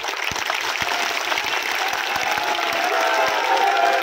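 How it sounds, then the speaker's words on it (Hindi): A large crowd at a political rally in Sanchore applauds continuously, a dense wash of clapping that holds steady and swells slightly toward the end. "इस बिश्नोई साहब के लिए जबरदस्त तालियां हो।"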